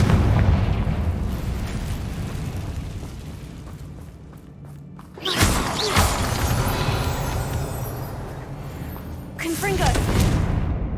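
Confringo fire spell blasts in the Hogwarts Legacy game, two sharp explosive bursts several seconds apart, each followed by a rumbling roar over a steady background of game ambience and scattered voices.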